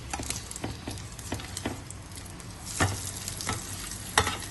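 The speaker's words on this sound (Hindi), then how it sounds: "अब हमने जो बैटर लगा के पराठा रेडी किया था अब उसको इस पे रख देंगे, फ्राई कर लेंगे" An egg paratha coated in batter fries in hot oil on a griddle, a soft continuous sizzle broken by scattered crackles and the occasional scrape or stir, with no talking.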